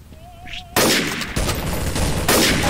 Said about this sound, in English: Oh, I missed every shot.